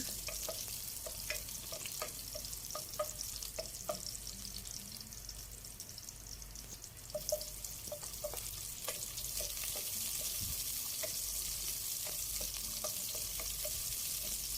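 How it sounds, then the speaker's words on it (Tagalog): Garlic, onion and ginger sauté in hot oil for chicken tinola, giving a steady bright sizzle with scattered clicks of stirring and utensil scrapes throughout; no one speaks. "Painitin lang yung mantika, and then pag mainit na, ilagay ang bawang, and then sunod yung sibuyas at saka luya."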